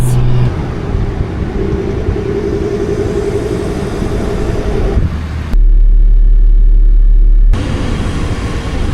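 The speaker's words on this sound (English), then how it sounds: "Driving on the beach in Australia." Car driving on a beach in Australia, a steady loud low rumble of engine and tires over sand with wind buffeting, briefly broken by a deep booming gust near the end.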